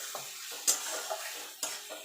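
Tomato cooked down with cashews in a pan being stirred, a soft sizzle running underneath with a few sharp scrapes and clinks of the spoon against the pan.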